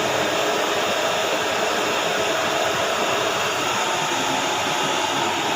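Pork liempo boiling and frying hard in a pan, a loud, steady broadband sizzle and bubbling that runs unbroken throughout with no talk.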